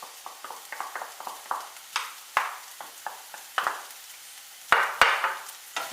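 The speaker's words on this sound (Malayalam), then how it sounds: "ഇത് നമ്മൾക്ക് നന്നായിട്ട് ഇതിലിട്ട് നന്നായിട്ട് നമുക്ക് ഇളക്കി കൊടുക്കണം." Ground chicken being stirred in a hot pan for cutlets: a quiet sizzle broken by repeated scraping and clacking strokes of a spoon, close up, in an uneven rhythm, with no talking.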